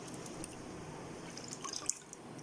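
Idli rava being washed by hand in water gives faint, scattered wet drips and small splashes against a quiet background.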